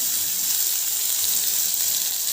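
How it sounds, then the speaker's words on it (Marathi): Stuffed okra fries in a pan while being gently and continuously stirred, producing a steady, close, bright sizzling hiss without any voices. "त्यासाठी कंटिन्यू भेंडीला हलवत राहायचं पण एकदम हळू हलवायचं"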